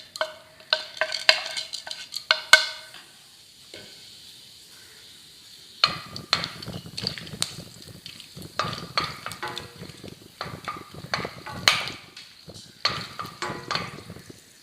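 Whole spices fry in ghee in a pan for beetroot halwa while a spoon stirs and scrapes in bursts, giving quiet sizzling and clinking up close with brief pauses and no talking.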